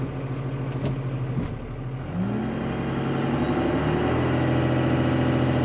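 Cummins diesel truck creeping forward while its tires scrub, a close low engine rumble with rising tonal whine and a faint scraping drag that grows slightly louder toward the end.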